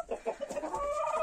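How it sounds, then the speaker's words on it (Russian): Barkovskaya Barvistaya pullets cluck in a henhouse, a few close, repeated clucks with a steady high-pitched trill behind them. "Этажом выше находятся молодки. Барковская барвистая."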